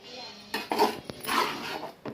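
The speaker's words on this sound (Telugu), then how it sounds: "ఇలా అంతా మొత్తం కలుపుకోవాలండి. వైట్ రైస్ అంతా గ్రీన్ రైస్ లాగా అయిపోవాలి." A metal spoon scrapes and clinks against a plate or pot while curry leaf rice is mixed, a few close clatters and scrapes over about two seconds, with no talk.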